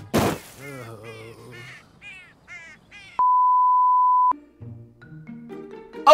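A crow caws in a RWBY Chibi cartoon: a series of harsh, rhythmic cries, then a sustained flat beep tone, followed by further cartoon sounds, loud and close.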